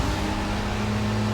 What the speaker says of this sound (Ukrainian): Обожнюю цей звук мотору, як вона їде.